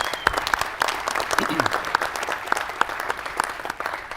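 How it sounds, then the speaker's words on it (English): An audience at the NVIDIA CES 2014 press conference breaks into applause, a dense patter of clapping hands that holds steady for a few seconds with a faint murmur underneath. "give him a round of applause"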